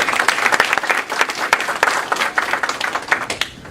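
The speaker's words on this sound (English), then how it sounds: "Let's once again give him a big round of applause." An audience gives a round of applause at a business event, dense steady clapping from many hands that stays loud and even throughout with no voices over it.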